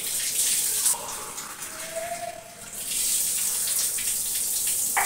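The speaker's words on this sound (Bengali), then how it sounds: "চায়ের জলটা এখন মেপে দিচ্ছি" Tap water runs into a measure for tea with a steady hissing gush, dipping briefly in the middle and then flowing strongly again, close and fairly loud, with no talk.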